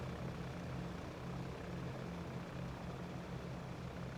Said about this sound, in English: I love listening to the engines and just knowing the power and capability of this thing.